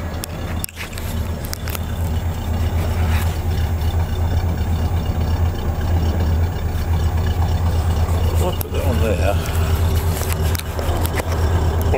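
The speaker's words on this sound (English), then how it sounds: "let's go to the back and listen to the old exhaust. Got quite a nice old exhaust tone to it." An old Bluesmobile-style car idles with its exhaust heard close from behind, a steady low rumbling drone throughout with a few brief knocks and handling noises.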